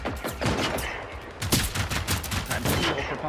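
Rapid bursts of gunfire from a Big Daddy in a video game, dense repeated shots crackling in quick succession throughout, fairly close and sharp.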